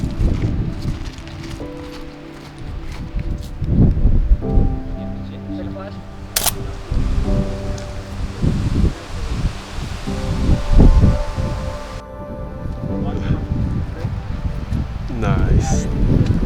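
Strong wind at a hydroelectric dam roars and buffets the microphone in uneven gusts, with clothing or gear rustling close by and a voice speaking briefly.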